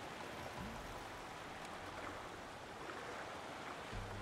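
A waterfall in the Paper Mario video game rushes as a steady, faint broadband roar of water, continuous and unbroken, with no voices.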